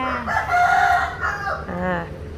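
A rooster crows in a rural outdoor setting, one long wavering call followed by a shorter second crow, fairly close and clear over a low background.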